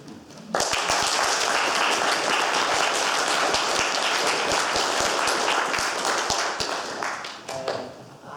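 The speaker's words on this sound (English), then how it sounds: "I think that definitely deserves a round of applause." An audience breaks into a round of applause at a talk about an astronomy society's memorial observatory. Loud, dense clapping from many hands goes on for about seven seconds and then thins out.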